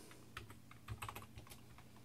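Keys tapped on a computer keyboard while entering commands during a Mac Pro 1,1 firmware upgrade: a quick, irregular run of light clicks, close and fairly quiet, with no voices.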